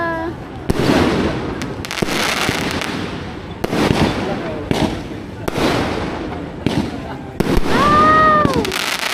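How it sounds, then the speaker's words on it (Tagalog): Christmas night fireworks burst in a series of sharp bangs and crackles at irregular intervals, fairly close, with people's voices reacting between explosions and a whistling rise near the end. "Pag New Year, mas maganda ang fireworks."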